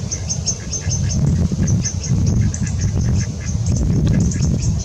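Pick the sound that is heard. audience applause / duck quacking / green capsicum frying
duck quacking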